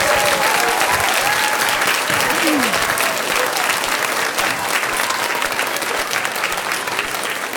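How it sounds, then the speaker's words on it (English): Sustained applause from an audience after a children's elementary school spring musical of The Lion King Kids, dense steady clapping throughout with a few faint voices mixed in. "So let's just give them another round of applause."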